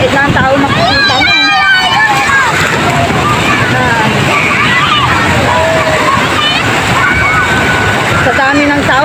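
High surf breaking at Benmaley beach in Pangasinan during a crowded New Year outing, a steady wash of water and wind noise with lively, overlapping voices and cheering from the busy crowd.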